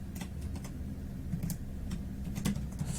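Someone types an SQL query on a computer keyboard, with faint, sparse key clicks and taps scattered over a quiet, low background hum, without talk.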